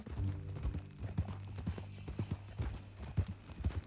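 A horse's hooves clip-clopping in Red Dead Redemption 2, a steady walking rhythm of close, soft thuds over about four seconds, with faint background ambience.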